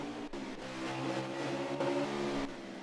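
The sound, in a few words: race cars racing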